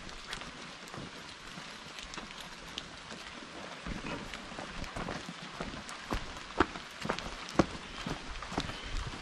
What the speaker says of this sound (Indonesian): Dan kebetulan hari ini hujan,